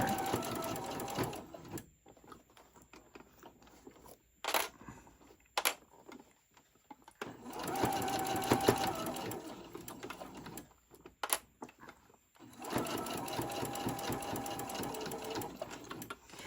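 A sewing machine slowly stitches a ruffle onto a tote bag with the stitch length set to 3, running in several bursts with brief pauses and a few sharp clicks between them, close and fairly quiet.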